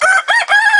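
Rooster crowing from a backyard chicken coop, one loud, close, sustained crow with a rising, wavering tone, heard alone with no talk.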